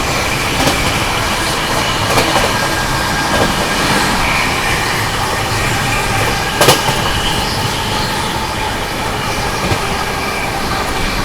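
A train rolls past on the rails near Bharatpur Junction, a loud continuous rumble and wheel noise with a sharp clank around the middle, no voices.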